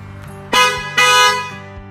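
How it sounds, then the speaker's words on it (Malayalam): Two loud, sharp honks from an aftermarket Hella horn fitted to a Suzuki Grand Vitara, a short blast followed by a slightly longer one, close by with no one talking. "നിങ്ങളെ കാണിക്കാൻ മറന്നൊരു സംഭവമാണ് നമ്മുടെ ഹെല്ലയുടെ ഹോൺ കേട്ടോ."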